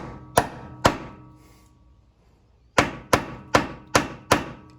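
Seven sharp metallic hammer strikes drive a cheap Allen bit into a seized Torx bolt on an old Jeep Cherokee: two blows, a pause, then five evenly spaced hits, close and loud with ringing decay.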